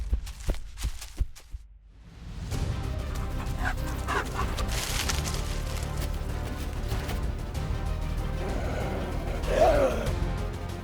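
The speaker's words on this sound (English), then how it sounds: "The African wild dog, or Lycaon pictus, is one of the most skilled pack hunters of the grasslands." African wild dogs (Lycaon pictus) on the grasslands give high yips and whimpers, with a louder burst near the end, over a steady dense background.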